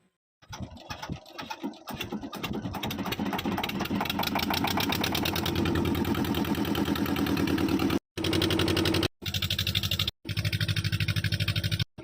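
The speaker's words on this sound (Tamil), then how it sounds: "இப்போ வாங்க நம்ம இன்ஜின் அடித்து ஓடலாம்." A fishing boat engine starts up and settles into a steady, loud chugging run, with a few brief cutouts near the end.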